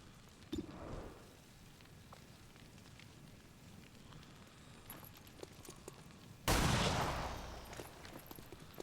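Heavy gunfire in X-Com 2, mostly faint scattered shots and rumble, then a sudden loud burst of fire that carries on for a couple of seconds near the end.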